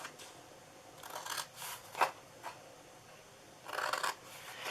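Scissors cutting paper pieces for a treat box, several close crisp snips and rasping slices in short bursts with quiet gaps between them.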